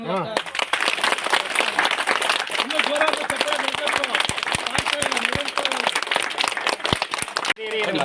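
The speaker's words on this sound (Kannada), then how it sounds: "ಜೋರಾದ ಚಪ್ಪಾಳೆ" Loud, dense applause from an audience at a World Senior Citizens' Day celebration in Mangalahosur, with a steady rush of clapping that runs for several seconds under a speaking voice and then cuts off abruptly.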